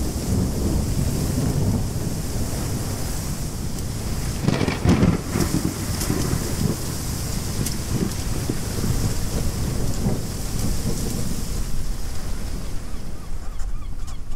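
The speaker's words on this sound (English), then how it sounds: "The storm lasted for almost 3 days" A heavy thunderstorm with steady rain pours down continuously, thunder rumbling low throughout and a louder crack and roll of thunder about a third of the way in, with no voices.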